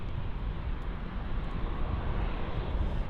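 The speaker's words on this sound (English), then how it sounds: "And on a final approach now, we have Lufthansa flight LH 2015 from Dusseldorf" Lufthansa Airbus A319-100 on final approach at Munich Airport, a steady broadband engine roar with wind-like rushing, constant and moderately loud.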